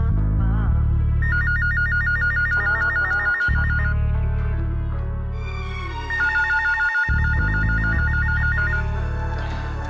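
A telephone at a radio station rings insistently, repeating electronic trilling bursts over a steady background of loud music, with brief breaks in the music and no talk.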